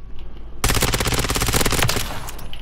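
Rapid automatic fire from the ISO 9mm SMG in Modern Warfare 3, a dense, loud, continuous burst of closely spaced shots that starts abruptly after a brief quiet moment and runs to the end.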